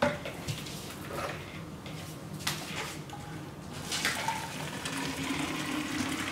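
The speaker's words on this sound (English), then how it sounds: "I'm going to add some 200-degree water up to the line" Water heated to 200 degrees pours and splashes into a plastic pitcher, a steady close-up trickle with a few knocks, getting fuller toward the end.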